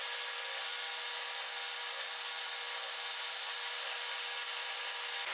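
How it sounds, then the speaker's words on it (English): A power drill bores a pin hole through the tang of a forged multi-bar twist Damascus bowie knife, producing a continuous, loud, even grinding whine with no talk over it. "So now we can go ahead and get our hole drilled for the pin."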